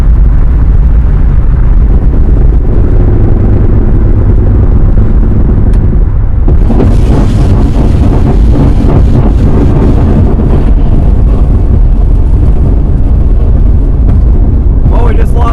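A 1977 Pontiac Firebird engine runs with a persistent misfire, a loud, rough, uneven rumble close to the microphone, buffeted by heavy wind noise that grows harsher partway through.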